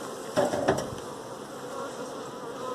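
Honeybees in an opened beehive during a guided hive visit, a close continuous buzzing hum with a couple of brief louder knocks early on.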